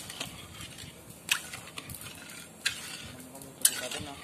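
Janmashtami sweet cooking and being stirred in a pot on a homemade desi clay stove, soft scraping and stirring with a few sharp clinks of a utensil against the pot over a quiet background.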